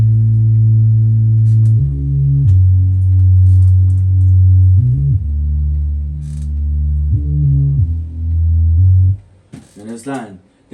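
A deep, loud synth bass line from a music production, made of sustained low notes that shift pitch in a repeating pattern, ending with a short burst of other sounds near the close.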